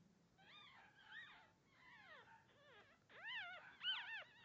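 Newborn puppies about five days old whimper and squeal in a rising, overlapping chorus of high wavering cries, close by and growing louder toward the end, with no talk.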